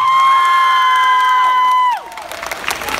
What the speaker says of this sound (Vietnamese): hãy cho nhiều tràng pháo tay thật to được không ạ?